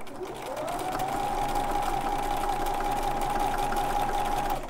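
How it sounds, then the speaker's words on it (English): A sewing machine runs steadily for several seconds while quilting, stitching in the ditch along a seam. Its continuous humming whir stays close and even throughout, with no pauses. "we're going to go along that seam, stitch in the ditch"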